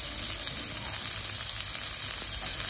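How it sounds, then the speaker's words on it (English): Onion hitting a hot pan in a water spinach (kang kong) stir-fry with garlic and ginger, a loud, continuous crackling sizzle with no talk. "Now we are adding the onion also."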